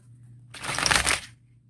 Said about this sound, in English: Yeah, that is a side shuffle, and that is halfway across the table now.